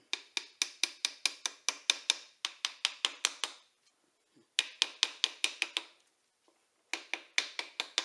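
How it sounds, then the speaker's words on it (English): Rapid bursts of light metallic hammer taps on a piston ring compressor during a Mopar small-block engine rebuild, quick evenly spaced strikes in runs separated by short pauses, close and crisp. "take the hammer itself and gently peck on the tool to make sure it's seated in"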